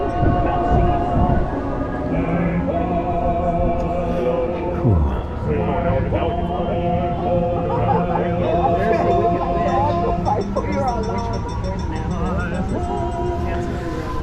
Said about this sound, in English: Just as we end, it's a Disney Railway train.